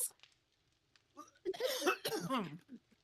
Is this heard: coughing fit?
yes